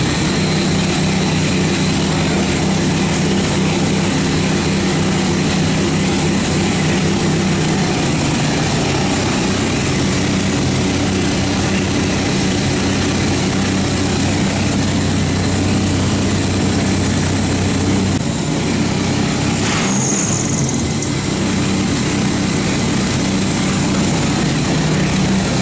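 A modified engine runs loud and close in a steady, droning roar throughout, with little obvious change in throttle and no clear backfire pops.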